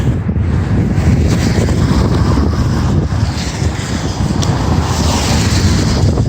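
Steady, heavy wind buffets the microphone on an uphill walk along old buildings on Pine Avenue, a loud continuous roar with rumbling low gusts and no talking.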